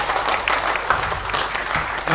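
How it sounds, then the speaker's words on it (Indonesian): Audience applause fills a conference hall at an Enagic international seminar, a dense, steady clapping from a crowd that holds at the same loudness throughout. "tepuk tangan dulu deh buat saya deh."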